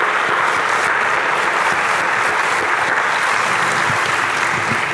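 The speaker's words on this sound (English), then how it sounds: "you want to clap? Let's clap." A convocation audience claps together in steady, dense applause, loud and continuous from start to finish with no voices over it.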